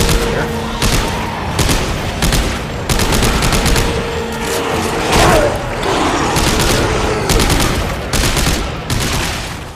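Rapid weapon gunfire blasting necromorphs in the video game Dead Space 3, dense bursts of loud shots and booms repeating across the whole stretch, close and heavy.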